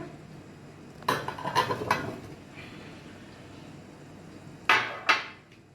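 Cut watermelon pieces are dropped into a mixer jar, giving clattering knocks and clinks of hard plastic and metal, in a quick cluster of hits and then a second pair of clunks, close and fairly loud.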